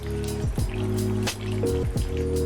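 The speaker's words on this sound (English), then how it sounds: "Let that drain." Engine coolant from a 5.2 Magnum trickling and dribbling into a drain pan, a close, continuous liquid stream with small gurgling shifts, quiet and without speech.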